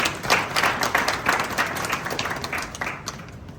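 A stadium crowd at Kumasi's Baba Yara grounds gives a round of applause during a welcome ceremony, heard as a dense, diffuse rush of clapping that slowly fades over a few seconds.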